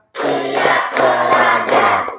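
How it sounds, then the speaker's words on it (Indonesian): A class of students clap in a counted rhythm, five sustained bursts of dense hand claps separated by brief gaps, loud and close with no talk over them. "tepuk 1, tepuk 2, tepuk 3, tepuk 4, tepuk 5"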